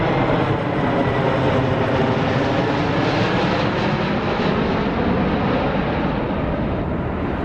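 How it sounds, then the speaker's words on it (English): Jetliners pass low overhead near an abandoned school beside an airport approach, a loud, continuous engine roar that holds steady and broad throughout. "You can hear the planes flying above."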